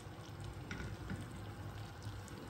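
Sugar syrup for winter bee fondant bubbling steadily in a pot, a soft continuous sizzle and froth at low level with no talking.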